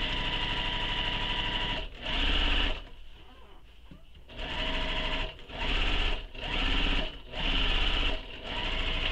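A sewing machine top-stitches along the side of a fabric handbag in several loud, close bursts of rapid stitching separated by short quiet pauses.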